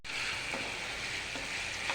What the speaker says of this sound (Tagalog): Prito muna tayo guys.